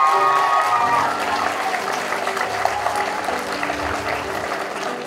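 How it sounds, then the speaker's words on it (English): A crowd claps steadily at a middle school choir concert in a dense, continuous wash of applause, loud at first and easing slightly, with a few faint cheers mixed in. "Let's give him a big round of applause."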